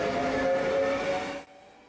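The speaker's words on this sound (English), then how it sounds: "Today we are traveling on board TER service, regional train of SNCF, French National Railway" An SNCF TER regional train running on the French Riviera line toward Nice, heard from on board as a steady loud rumble with a faint tonal whine that cuts off abruptly near the end.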